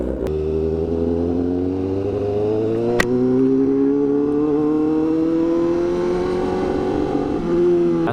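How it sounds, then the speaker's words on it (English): Honda Fireblade RRR SP engine warming up in cold weather, a close, smooth revving tone that rises steadily in pitch over several seconds. A couple of sharp clicks break in near the start and the middle. "Take it easy and warm up the bike."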